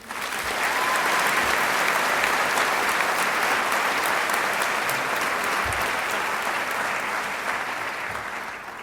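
Sustained audience applause welcoming commencement speaker Dale Reppert, a dense, steady wash of many hands clapping that holds at full strength for nearly nine seconds before tapering slightly at the end.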